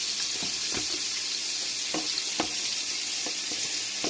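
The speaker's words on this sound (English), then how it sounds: "Our chicken wings have been marinating, so I'm going to go ahead and start frying it." Marinated chicken wings and onions fry in hot oil, a steady loud sizzle filling the space, broken now and then by soft clinks and scrapes of stirring. Nobody speaks.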